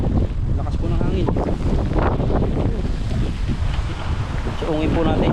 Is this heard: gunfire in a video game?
no